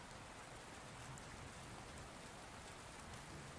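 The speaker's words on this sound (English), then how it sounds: "I hope y'all enjoyed the rain noise." Steady Minecraft rain (Beta 1.7.3) falls as a continuous, even hiss of drops on surfaces, soft and unbroken with no voices.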